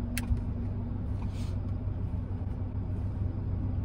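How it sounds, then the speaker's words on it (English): Car driving slowly around a residential neighborhood, heard from inside as a low, steady engine rumble with a brief knock near the start. "I just want to like drive around the neighborhood. I'm gonna do a lap."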